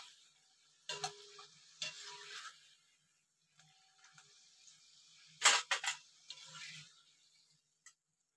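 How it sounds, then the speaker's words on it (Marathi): Malvani khaja, a Sindhudurg specialty sweet, deep-frying in hot oil: a faint, intermittent sizzle with short bursts of stirring and handling, broken by quiet gaps. "चांगले फ्राय करून घ्यायचे. हे बघा हे तळून झाले."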